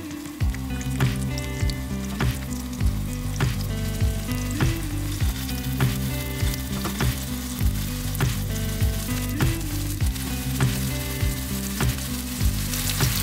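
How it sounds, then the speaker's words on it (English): Chicken thighs sizzle loudly in scorching hot oil in a pan, a dense, steady crackle with regular sharp pops and spatters throughout, with no voices over it. "You can hear that sizzle"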